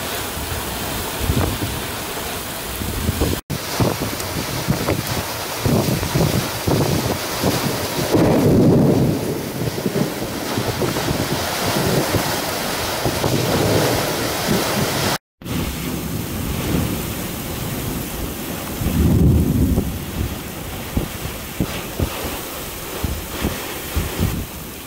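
A heavy storm sweeps over the north of Baish governorate in Jazan: strong wind roars and buffets the microphone while dense rain pours down continuously, with deeper rumbling swells rising twice through the long stretch.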